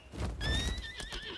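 A horse in the fantasy video game Lost Ark lets out one clear, drawn-out whinny that wavers at the end, heard up close over a low game rumble.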